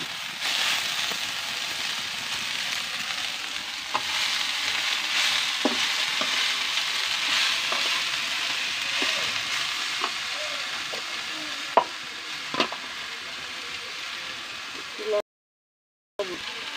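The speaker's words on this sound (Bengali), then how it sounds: "এই যে আমি মূলার শাক ভাজি করে নিচ্ছি" Boiled radish greens stir-frying in a pan, a loud continuous sizzle with scattered spatula clicks and scrapes, cut by a brief silent gap near the end.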